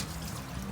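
Running water splashes into a basin as food soaks before frying, a brief, close, steady trickling wash with no talking.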